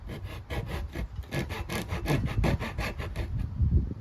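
A hand saw rasps through wooden baseboard trim at an angle in quick, regular back-and-forth strokes, close and fairly quiet, with no talking.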